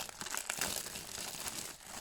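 Crisp crinkling and snipping of a Dragon Ball Super Card Game trading card pack wrapper being cut open with small scissors, close and continuous for a couple of seconds, with no talking.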